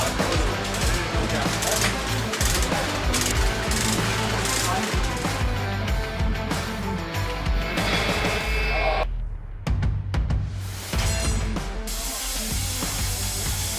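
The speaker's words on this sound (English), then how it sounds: "The mortar bed and old reinforcement around the bearing is removed using hydrojetting" Hydrojetting stripping the mortar bed and old reinforcement around a bearing of the Hammermühle Viaduct during refurbishment, a loud continuous high-pressure hissing spray with rough blasting texture and brief drops, plus a voice talking over it.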